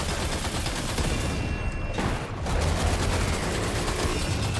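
Dense, continuous machine gun fire in Death Stranding 2: On The Beach, loud and close, forming a thick wall of rapid shots with a brief dip before resuming.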